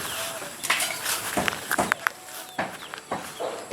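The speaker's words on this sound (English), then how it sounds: "Chickens." Chickens cluck and call around a cleared rural property in the Philippines, a busy scatter of short bird sounds mixed with footsteps and talk.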